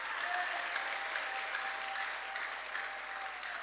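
A church congregation applauds together in a dense, continuous patter of clapping that holds steady throughout, with no other sound standing out.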